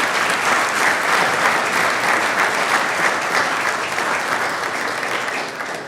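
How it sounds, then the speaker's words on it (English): Steady, full audience applause for parents during a city council meeting, dense clapping from a large roomful that holds at an even level for several seconds. "Can we clap it up for all the parents?"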